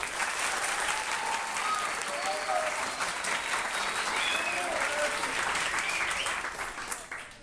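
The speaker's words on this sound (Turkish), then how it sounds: "sizlerin de daha güçlü bir şekilde bu öğretmenlerimizi alkışlamanızı istiyorum" Applause from a school audience honoring teachers at a lyceum ceremony, a dense, steady roar of many hands clapping that holds throughout and tapers slightly at the end, with faint voices mixed in.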